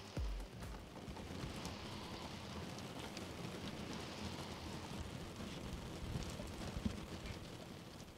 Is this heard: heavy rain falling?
yes